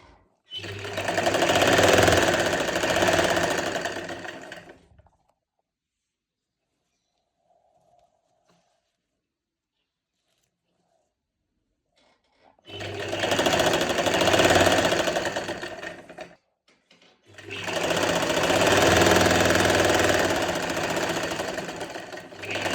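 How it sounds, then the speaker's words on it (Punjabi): A domestic sewing machine stitching a finishing strip onto the edge of a dupatta, running in three loud, steady whirring bursts close by, separated by a long silent pause and a brief gap. "ਆਪਾਂ ਸਲਾਈ ਲਾਉਣੀ ਆ ਇਹ ਤੋਂ ਇਧਰਲੇ ਪਾਸੇ ਲਾਉਣੀ ਆ"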